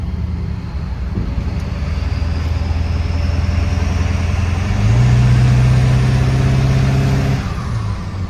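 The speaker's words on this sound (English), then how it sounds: "Little baby whistle now that it's straight pipe." A straight-piped truck engine rumbles steadily, then revs higher for a couple of seconds with a thin exhaust whistle riding over the exhaust note before settling back.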